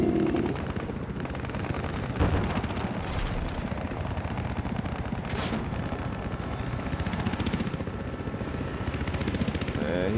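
A Black Hawk helicopter in the video game Battlefield Hardline thrums with a dense rotor chop, mixed with bursts of gunfire and explosions in a large Conquest match, steady and loud.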